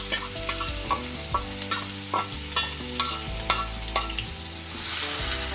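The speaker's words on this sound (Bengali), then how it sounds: "তেল গরম করেছি, পেঁয়াজগুলো দিয়ে দিলাম" Chopped large onions hit hot oil for pav bhaji masala, crackling with a steady sizzle while a spatula stirs and scrapes in regular strokes, close and fairly loud with no voices.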